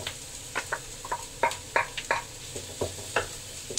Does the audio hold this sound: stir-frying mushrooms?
yes